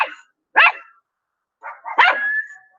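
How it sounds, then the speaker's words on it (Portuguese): A dog barks in short, separate bursts: one sharp bark, then a pause, then a couple more barks, the last trailing into a brief whine. No one is talking. "Vocês estão ouvindo os cachorros latindo aí?"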